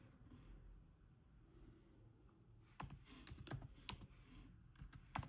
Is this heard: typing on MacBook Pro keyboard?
yes